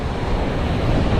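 Strong ocean waves churn at a rocky fishing spot, a constant, loud wash of surf mixed with wind noise, with no voices.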